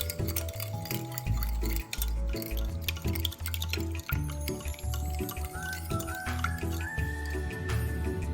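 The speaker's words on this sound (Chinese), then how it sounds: "将拌匀后的调味汁倒入热锅内，中高火将调味汁煮开" A thick honey-sweetened seasoning sauce goes into a hot wok for fried pork with peanuts, giving close wet liquid splashes and stirring clatter while tonal music and background hum run throughout.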